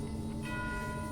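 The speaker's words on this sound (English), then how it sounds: "That's the sound of the bell." A bell rings in the video game Genshin Impact, a sustained tonal chime with steady ringing overtones that holds through the whole moment over a low background hum, with no speech.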